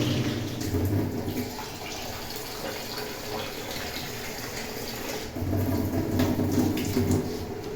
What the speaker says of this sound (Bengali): এই চাল আতপ ভালো করে একটু ধুয়ে নিচ্ছি